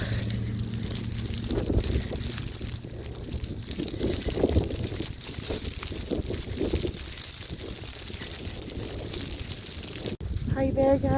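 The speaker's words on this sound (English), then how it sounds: "it's windy outside" Strong wind blows during a snow storm in New Brunswick, Canada, a steady roaring buffet against the microphone that continues throughout, with a person talking briefly over it.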